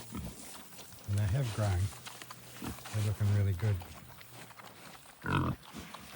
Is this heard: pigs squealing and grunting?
yes